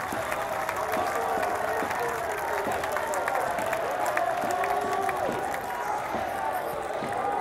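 Serie B football fans in the stands at Como-Benevento cheer and applaud their team, a steady roar of crowd noise with a faint commentator's voice beneath it.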